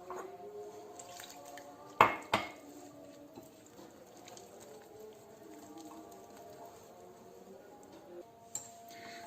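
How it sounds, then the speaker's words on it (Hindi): Potato cutlet batter mixed with water gets whisked in a bowl, with two loud metallic clanks near the start, then a steady faint wet scraping and light clinking running underneath. "अब इसको हम पानी डाल के विस्क के साथ मिक्स कर लेंगे"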